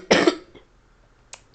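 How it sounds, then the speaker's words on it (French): A single close, sharp cough bursts out, followed by a faint throaty catch and a brief quiet stretch. "j'ai une petite toux"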